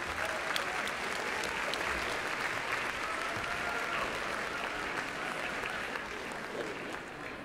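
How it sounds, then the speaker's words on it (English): Applause at a teacher of the year banquet for regional award winners: an audience claps steadily and evenly for several seconds, a dense, moderately distant sound with no talk over it. "Let's give one more round of applause for all of the Region 1 Teachers of the Year."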